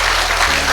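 Audience applause at a MiLifestyle Marketing leadership event, steady dense clapping filling the whole short moment with no voices.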